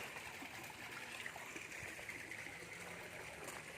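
An artificial garden stream and waterfall with koi, its water dark with algae, gives a steady, continuous trickle and splash close by, with no voices.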